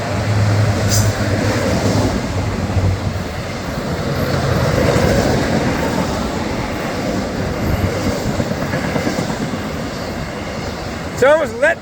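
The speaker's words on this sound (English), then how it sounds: "It's almost a letdown after the locomotives go by." Railroad locomotives and cars roll past close to a crossing gate, a loud sustained rumble and clatter of wheels throughout, with a person speaking over it and a squeal near the end.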